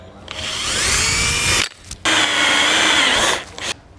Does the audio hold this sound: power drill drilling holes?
yes